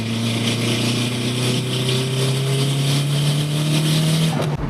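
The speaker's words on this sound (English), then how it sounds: "But now the car barely builds boost and it sounds terrible." A race car with a blown turbo gasket revs hard, giving a loud, droning engine note with rising tones and a rough, harsh edge, cut off abruptly at the end.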